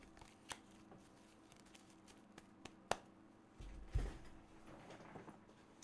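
Tarot cards being shuffled by hand, soft scattered flicks and riffling taps, quiet and close, with a brief bump near the end.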